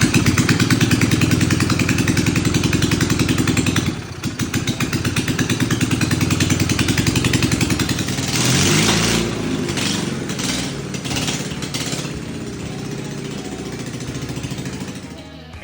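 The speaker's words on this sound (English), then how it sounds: "So this here is the Kohler Magnum 18 opposed twin. We just had it running." A Kohler Magnum 18 opposed-twin engine on a 1967 Sears Custom 6 tractor runs loudly with a steady, throbbing chug, its tone shifting and roughening partway through as it revs, with some clattering.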